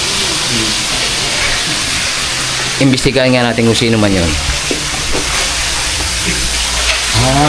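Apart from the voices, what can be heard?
frying food sizzling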